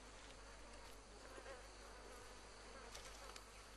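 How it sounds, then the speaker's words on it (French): Flies buzz in the Red Dead Redemption II video game as a steady, close insect drone over constant outdoor ambience, with faint swells as they pass and no speech. "tellement de mouches"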